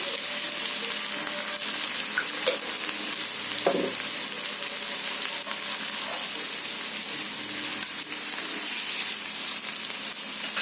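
Onions and cumin seeds frying in a pan, a continuous bright sizzle with occasional stirring scrapes and clinks, close and steady throughout.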